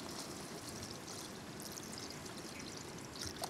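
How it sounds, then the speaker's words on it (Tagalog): Water pours steadily into a cooking pot with chicken for boiling, in a continuous, splashing stream, close and fairly quiet, at a campsite. "Sabawan ng tubig at pakuluan ang manok"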